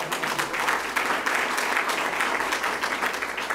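Steady applause from an audience at a State of Illinois treasurer's event, a dense, even patter of many hands clapping throughout, close and fairly loud.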